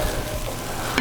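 Shrimp hitting a hot pan for blackening, a steady broadband sizzle filling the second, close and fairly loud with no talking.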